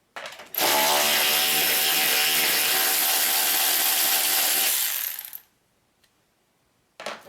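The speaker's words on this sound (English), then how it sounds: "So I will sit you guys back here so I can remove these nuts" Power tool, likely an impact wrench, spinning off 13mm strut nuts on a Ford Freestyle front strut, one loud sustained whir of about four seconds that cuts off, then near silence before a brief clatter.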